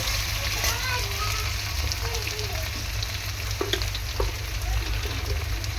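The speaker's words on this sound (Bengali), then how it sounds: "মাছগুলোকে ভালো করে এরকম তেলের মধ্যে ভেজে নেব" Silver carp pieces frying in hot oil, a steady loud sizzle with occasional spatters, under a voice speaking.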